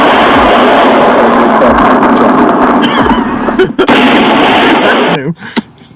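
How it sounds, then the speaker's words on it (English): A loud, roaring explosion sound effect with dense crackling rumble fills most of the stretch before breaking up into a few fading pops and cutting off near the end. "That is an explosion going off."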